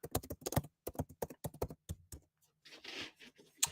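Rapid typing on a computer keyboard, close and fairly quiet, with irregular bursts of key clicks followed by a short pause and a soft rustle.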